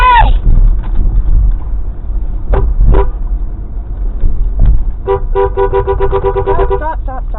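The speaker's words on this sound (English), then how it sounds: "Flash your light or honk at him." Car horn honking in road traffic: several short, bright horn blasts close together near the end, over a steady engine rumble with a few brief thumps before them.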